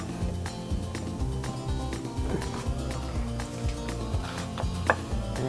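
A knife slices onions thin in a home kitchen, with a steady run of quiet, close taps on the board set against a low background hum.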